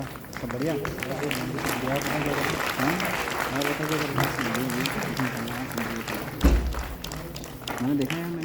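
Applause from the audience at a retirement ceremony at IVRI Bareilly runs beneath someone speaking over a loudspeaker, with a thump partway through and the clapping steady throughout.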